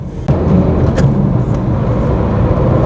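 A Tata Nexon diesel car engine drones steadily up close as it accelerates, with a brief dip where the gear change to third happens early on, then continues pulling evenly.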